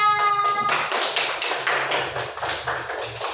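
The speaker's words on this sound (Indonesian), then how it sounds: "Tepuk tangan untuk kelompok 3" Classroom applause for a student presentation group, a broad wash of many hands clapping at once that stays loud and steady throughout, with no talk over it.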